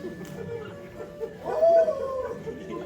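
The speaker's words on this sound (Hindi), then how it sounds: "रो रहा है बेचारा, कुत्ते से भी गया गुजरा है।" During a stage performance of Waiting for Godot in Hindi, a man cries and whimpers like a dog. A strained, rising whine swells in the middle, moderately loud over low background noise.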